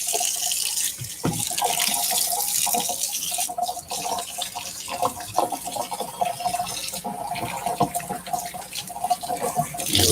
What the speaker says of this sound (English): I'm gonna wash my hands again here.